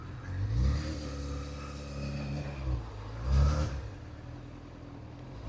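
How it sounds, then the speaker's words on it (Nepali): A Honda Hornet 600F motorcycle engine runs on its first test ride after a fuel pump fix, a fairly faint, smooth drone with two brief rises in revs and no speech. "यो मेरो चाहिँ पहिलो test drive let's see sound चाहिँ स्मुथ"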